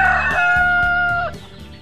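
A cartoon rooster crows loudly and close, one long cock-a-doodle-doo call that holds and then drops at the end, standing alone without speech.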